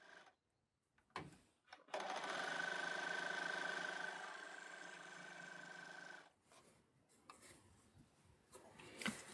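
An overlocker runs in one steady, close burst of about four seconds while stitching a pintuck, with a fine mechanical whir, bracketed by quieter handling sounds and short pauses.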